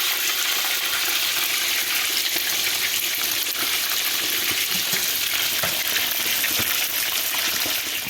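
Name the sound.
chicken frying in oil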